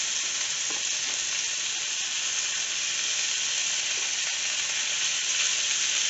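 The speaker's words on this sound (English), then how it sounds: "We'll brown that for about 5 minutes" Beef browning in a pan for Mexican beef stew, a steady loud sizzle and crackle of frying meat that runs unbroken throughout, with no talk over it.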